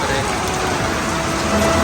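Heavy rain hammers down at Ganpatipule in Ratnagiri, a thick unbroken roar that holds steady and swells slightly toward the end.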